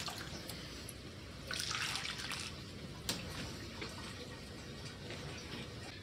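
Water trickling and dripping from the overflow of a hydroponic drip irrigation system for chillies, a steady faint flow with occasional sharper drips and a brief louder gush.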